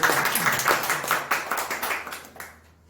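A church congregation at a Sunday service claps together in a hall, brisk and fairly loud, with the clapping tapering off and falling quiet near the end.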